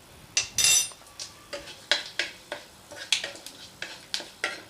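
Dried red chillies, a bay leaf and a pinch of cumin seeds tempered in hot oil in a pan, heard as a series of sharp crackles and spoon-against-pan clinks in short bursts, close up with no talking.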